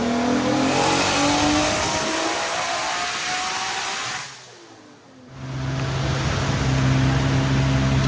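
A 2JZ-swapped Dodge Hellcat engine revs under turbo boost, a loud roaring rise in pitch that dips and quiets briefly mid-way before surging back strongly, close and sustained with no talk.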